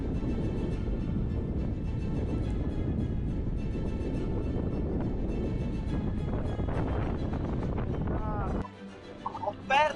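Strong wind roars and buffets the microphone during a storm while sea fishing, a dense continuous rush that drops away abruptly near the end.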